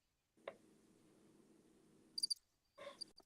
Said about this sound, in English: Don't play with crickets.